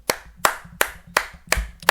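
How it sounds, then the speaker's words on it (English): A single pair of hands claps slowly and deliberately, six crisp claps spaced evenly, close and alone with no crowd or voices. "Round of applause."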